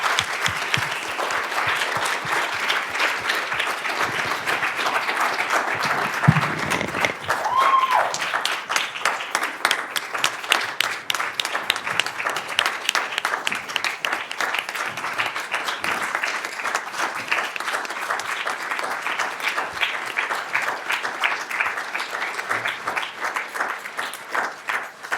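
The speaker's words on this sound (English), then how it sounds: "Can we all give a warm round of applause to Dr. Yusef Salaam?" Sustained, warm applause from an audience at the close of a conversation event on exoneration and education, steady dense clapping lasting the whole stretch at moderate loudness.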